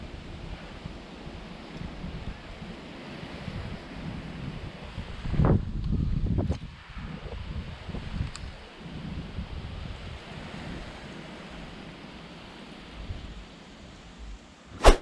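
Strong wind roars across open water on a fishing outing, a steady rushing buffet on the microphone that swells into louder gusts around the middle and ends with a sharp knock.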